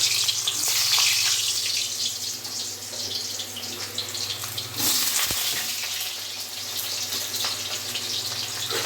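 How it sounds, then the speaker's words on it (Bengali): Potatoes go one by one into hot oil in a wok, giving a steady, close sizzling hiss that stays fairly even for several seconds without talk. "এবার আমি কড়াইয়ে তেল গরম হয়ে গেছে, এবার আমি এক এক করে আলুগুলো দিয়ে দেবো।"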